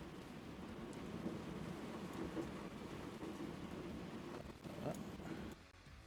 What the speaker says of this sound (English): the loud rain noise only happens while I'm talking